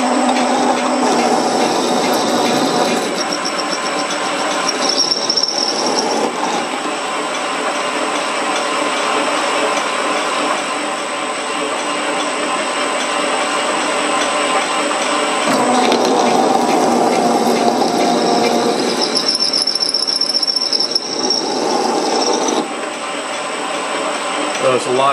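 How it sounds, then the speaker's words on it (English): A Grizzly G0752 metal lathe taking a light spring cut, giving a steady, continuous mechanical whir and hum with a high whine, close and constant throughout, with changes in tone as the cut proceeds and no one talking. "I'm going to do a spring cut here."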